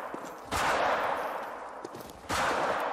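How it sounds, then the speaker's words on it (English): Gunfire rings out in a hunting video game as two sharp, loud shots land about two seconds apart, each with a short ringing tail. "Wait, stop shooting."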